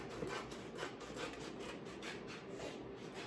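Heat transfer vinyl sheets being trimmed give a steady, faint rasping and rubbing with a regular stroking rhythm, close by and alone.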